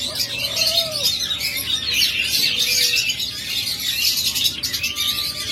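Young cage birds chirp steadily in a shop setting where budgerigars, diamond doves and lovebirds are kept, a dense bright twittering running throughout with no one speaking.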